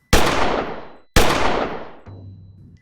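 Two loud, sharp gunshots about a second apart, each ringing out with a long echoing decay, followed by a low steady hum.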